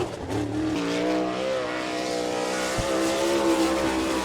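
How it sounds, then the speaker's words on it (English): A sprint car starts its qualifying lap at Attica, Ohio, in an All Star Circuit of Champions race. The engine snarls loudly and rises steadily in pitch as it accelerates, with one sharp click partway through and no talk. "Taking the green flag, getting his qualifying effort underway right now in car number 14"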